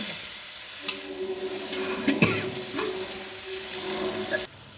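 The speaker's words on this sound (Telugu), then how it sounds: "ఇప్పుడు పోపు వేపుకున్న కళాయిలోనే మనం ఈ ఉల్లిపాయ పచ్చిమిర్చి వేసేసుకున్నాం" Chopped onion and green chillies fry in a little leftover oil in a kadai, making a steady hissing sizzle. Utensils clink and scrape through it, and the sound cuts off abruptly near the end.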